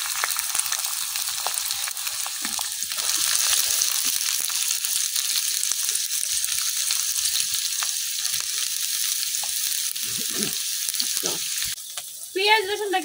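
Chopped onion and garlic sizzle in hot oil in a pan after taki fish was fried, a loud continuous hiss with scattered stirring clatters and a sharper burst of sizzle near the end.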